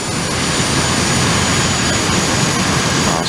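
An airliner's number 2 jet engine spooling up during start in the FSX flight simulator, a loud, steady turbine roar with a faint high whine, sustained without a break.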